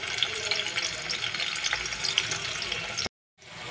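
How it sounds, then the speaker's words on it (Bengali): Potato pieces frying in hot soybean oil for chicken dum biryani, a steady dense sizzle and crackle running continuously before cutting out abruptly near the end, then resuming faintly. "তো বিরিয়ানির আলুটাকে ভাজার জন্য এখানে আমি কিছু পরিমাণে সয়াবিন তেল দিয়ে দিব।"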